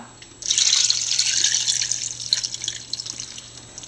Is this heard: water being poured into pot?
yes